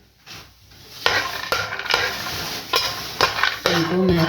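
Almonds frying in desi ghee in a pan, a steady sizzle with repeated scraping stirs and spoon knocks, close by and moderately loud.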